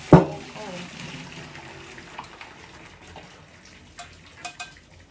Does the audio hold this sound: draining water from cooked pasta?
yes